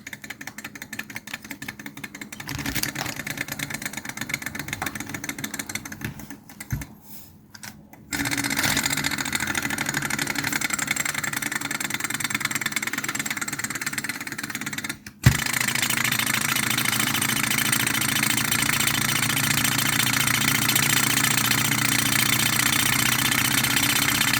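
A small toy Stirling engine heated by a blow torch runs with a fast, even mechanical chatter over the torch's steady roar, briefly faltering and pausing before picking up again, close and fairly loud with no voices.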